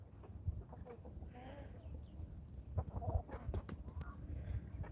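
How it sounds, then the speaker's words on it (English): Yard chickens on a farm cluck softly and intermittently, faint and somewhat distant over low background rumble, with a few brief sharper calls. "here in the yard chickens"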